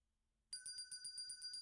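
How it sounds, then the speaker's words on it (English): An electronic bell alert set off from a livestream chat starts abruptly after a short silence and rings on in a bright, fast, trilling pattern of repeated tones, faint and without talk. "The people like ringing a bell."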